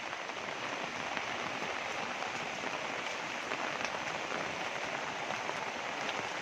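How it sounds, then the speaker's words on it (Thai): Heavy rain pours steadily, a dense, even roar of drops on surfaces with no pauses and no voices. "ฝนแรงมากนะครับผมฝนแรงมาก"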